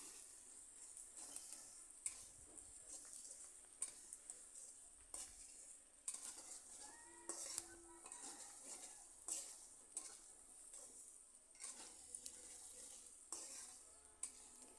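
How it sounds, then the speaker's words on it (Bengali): Ginger and garlic paste frying in a pan for a chicken roast, with a steady sizzle under repeated stirring scrapes and light clinks of a utensil against the pot, continuous and close. "আদা বাটা কিছুক্ষণ ভেজে নেওয়ার পর রসুন বাটাটা দিয়ে দিচ্ছি। আবার এভাবে কিছুক্ষণ ভেজে নেব।"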